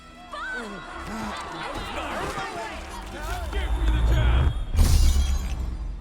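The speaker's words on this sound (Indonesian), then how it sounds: "permata naga jatuh ke lantai dan pecah." A dragon gem falls to a floor and shatters amid a jostling crowd, with agitated voices throughout and a loud crashing burst near the end.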